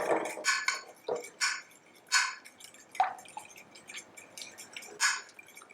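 Small pullet egg yolks being broken up in a kitchen, giving a run of soft, wet dripping and squishing clicks in irregular bursts, close and fairly quiet, with no talking.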